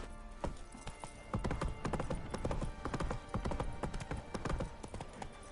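Horse hooves clip-clop steadily in The Witcher 3, a busy, close rhythm of strikes with a faint whinny and no speech over it.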